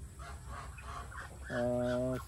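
Farm chickens, Texas-breed fowl, let out one loud drawn-out squawking call near the end, over a low, steady background of farmyard noise.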